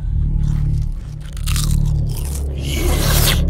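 Doritos chips being crunched and chewed close up, loud crisp bites and scraping crunches over a continuous low rumble, with no speech.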